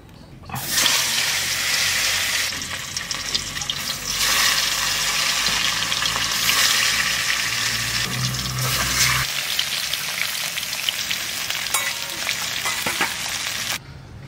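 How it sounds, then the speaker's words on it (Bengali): Katla fish curry frying in mustard oil in a hot wok, a loud steady sizzle with a low bubbling layer that drops off after about nine seconds, leaving a softer hiss that runs to the end. "কড়াই গরম হয়ে গেছে, আবার সরষের তেল দিয়ে দিচ্ছি।"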